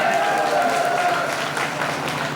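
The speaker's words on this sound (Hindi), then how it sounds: "एक बार उनके लिए जोरदार तालियां हो जाए" Applause from a gathering at a Jain religious assembly, honoring those who chose the kalash pots; a broad wash of clapping with a faint tonal hum underneath, steady and moderately loud.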